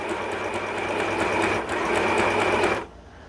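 Dechow portable sewing machine running steadily on a longer stitch setting, a close, loud continuous mechanical whir with rapid needle clatter for nearly three seconds before stopping abruptly.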